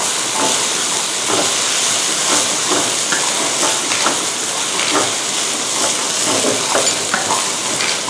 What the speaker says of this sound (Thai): ทีนี้เราก็จะเติมกระเทียมนะคะ พริกค่ะและรากผักชีนะคะผัดให้หอมเลยค่ะ